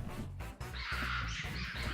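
A bird caws in a Pokémon video game, The Teal Mask DLC: a couple of harsh mid-pitched calls ring out over a steady, loud game soundtrack with a low rumbling bed.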